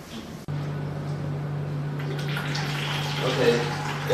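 Water filling a picosecond laser device during installation and spilling out of its vents, a steady low pump-like hum under a running watery wash that grows busier toward the end.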